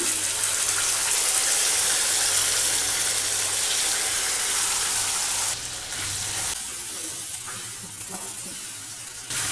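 Ground mint paste sautéing in a pan hisses and sizzles steadily, with a broad watery crackle that thins out and turns patchier toward the end.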